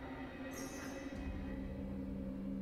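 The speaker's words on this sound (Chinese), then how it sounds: "我们坐的可是火车呀" A steam-era train runs along the tracks with a steady, low rumble of wheels and carriages, and a brief high hiss breaks in early on. No voices are heard.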